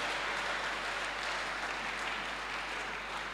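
A church congregation applauds in a steady, dense wash of clapping that holds evenly for a few seconds at moderate loudness, with a low hum underneath.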